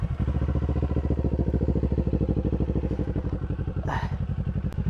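Kawasaki Ninja 500 motorcycle ridden in gear, its engine thrumming in a steady pulsing rhythm close by, with a brief rushing swell near the end.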